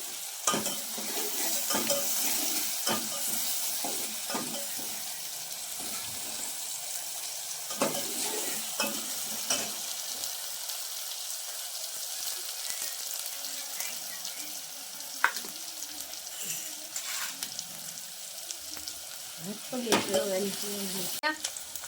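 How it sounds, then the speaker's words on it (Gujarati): Chopped tomatoes hit hot oil for a ringan no oro (Gujarati smoky eggplant dish), giving a busy close sizzle with frequent clattering stirs and scrapes, loudest at first and then settling, with a brief burst of clatter near the end. "હવે હું નાખું છું ટમેટા"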